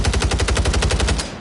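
Rapid automatic gunfire from a weapon in the video game Warzone, a loud, steady stream of closely spaced shots lasting over a second before cutting off, with no voices.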